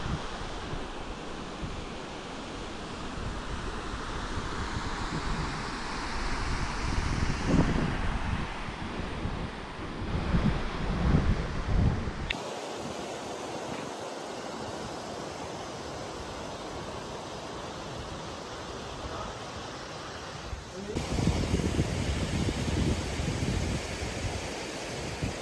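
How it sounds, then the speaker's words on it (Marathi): Water flowing near a temple in Mahabaleshwar, a steady broad rushing roar heard outdoors, loud and continuous with some wind buffeting and swells, with no talk. "पाण्याचा आवाज येतच असेल"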